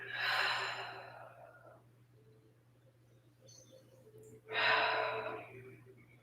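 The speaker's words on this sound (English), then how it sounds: "Breathing in and out." Deep exhaling breath during a vinyasa flow yoga session, heard as two long, close breaths a few seconds apart over a faint steady hum.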